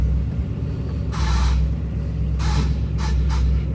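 A 1960 Chevrolet Impala drives along with a steady low engine and road rumble heard from inside, broken by several short hissing bursts.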